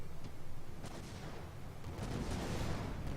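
Mine explosions strike a tank in World of Warships-style naval arena play, Big Brass Revival match: several dull booms and crackling blasts roll through a continuous noisy battle rumble, moderately loud, with no voices.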